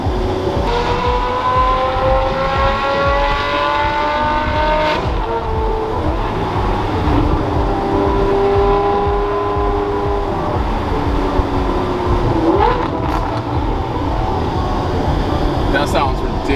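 A straight-piped Ferrari 599 with a valved titanium exhaust revs loudly, engine pitch sweeping up and down in repeated pulls as it echoes off a wall, with people talking over it.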